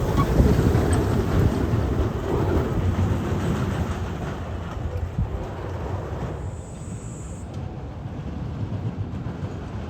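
A roller coaster train at Six Flags Fiesta Texas rumbles past in a loud, continuous roar that gradually eases, with wind noise over the microphone.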